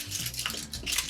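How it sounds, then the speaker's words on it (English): Strips of aluminium foil are torn and crinkled close by, a soft bright rustling and crackling that runs through a brief moment with no talk. "If you tear off little bits of foil, they make interesting noises. Like crinkly, listen."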